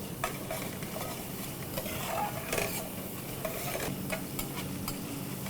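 Green chillies fry and are stirred in a pan on the stove over a raised flame, a steady sizzle broken by scraping and clinking of a spoon against the metal, close and continuous with no talk.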